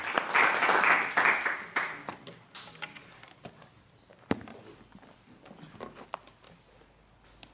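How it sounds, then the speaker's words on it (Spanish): A congregation claps at a Bible study gathering, a burst of applause that thins quickly into scattered individual claps and taps before fading out. "vamos a darle un aplauso al Señor"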